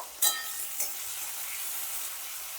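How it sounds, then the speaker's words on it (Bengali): Flat beans fry lightly in oil in a home kitchen, producing a soft continuous sizzle. Two sharp clatters from a utensil stand out near the start, and no voices are heard. "সিমগুলো একটু হালকা করে ভেজে নেব খুব বেশি ভাজবো না লাল করে একটু হালকা করে ভেজে নেব"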